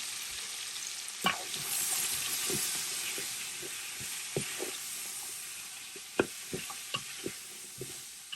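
Sliced pepper sizzles in a hot pan for rice noodles with beef and shrimp, a steady frying hiss broken by occasional light utensil taps and stirs, close by and without speech.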